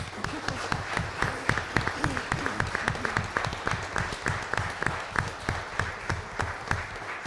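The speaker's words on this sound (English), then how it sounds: "let's just give you a round of applause" Scattered clapping rings out at a school board meeting as a team of educators is recognised, with distinct individual claps in an uneven, fairly quiet patter from a modest group.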